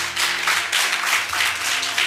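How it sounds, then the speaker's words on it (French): Steady, dense applause from a crowd at a Christmas charity event for vulnerable children, continuous and fairly loud throughout with a low hum underneath. "Quand même, applaudissez pour vous."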